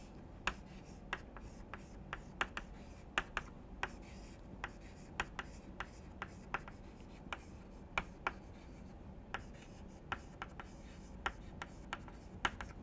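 Marker or chalk writing on a board during a lecture on process modeling, a series of sharp close taps and short strokes at an irregular pace over a quiet room, no speech over it.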